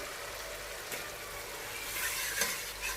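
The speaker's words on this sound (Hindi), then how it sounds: "भूनेंगे इसे। टमाटर हमने डाल दिए हैं।" Tomatoes fry with masala in a pan for chana masala, making a steady sizzle with occasional spoon scrapes and stirring clatter near the end.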